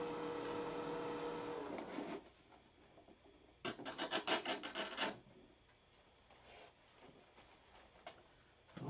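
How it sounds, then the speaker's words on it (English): Steady abrasive rasping of sandpaper on a miniature wooden bird ornament spinning on a lathe, loud at first, then a burst of rhythmic scraping strokes, fading to lighter rubbing. "I want to leave a little bit of support while I finish sanding, so let's go ahead and sand it"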